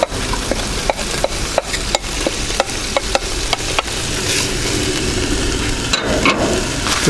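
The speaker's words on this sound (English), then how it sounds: "the next thing is we're just going to fry these onions." Onions frying in a pan for a steak alla pizzaiola, a steady close sizzle with repeated sharp clicks and scrapes of stirring throughout.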